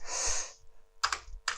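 Keys clatter on a refurbished Amiga 500 computer keyboard: a short burst of rapid typing, a brief pause, then two more quick clusters of presses, close and clear.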